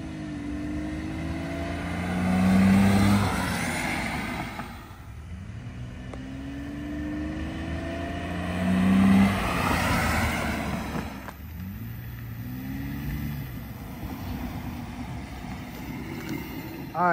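A 2005 BMW 325xi fitted with a cheap cold air intake drives past outdoors several times. Each pass swells into a loud intake and engine roar with a pitch sweep, then fades back to quieter idle-like rumble between passes.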